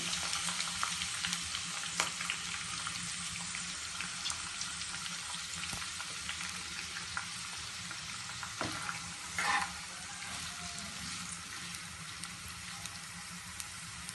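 Onions, green chilies and curry leaves sizzle steadily in oil in a pan for an aloo capsicum curry, a dense continuous frying hiss with faint occasional stirring clicks and no voices.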